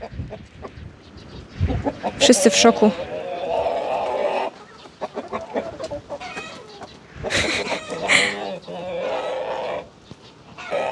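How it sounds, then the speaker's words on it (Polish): A rooster clucks and crows amid a farmyard, with people talking nearby and other birds calling faintly in the background. "Stasiu, to jest kogut chyba!"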